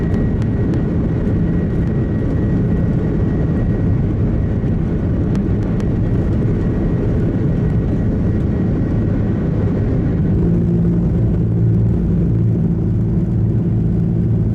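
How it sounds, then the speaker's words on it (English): An Airbus A330 takes off with engine damage from a bird strike, its loud, steady jet roar and deep rumble filling the whole stretch without a break. "This Airbus A330 that was taking off when at the last second a flock of birds struck the plane"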